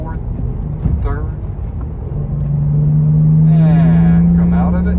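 The engine of a 2008 BMW 328i, heard from inside the car, blips and rises in pitch through heel-toe, double-clutch downshifts on a foggy country road, a close, swelling drone that builds under a voice.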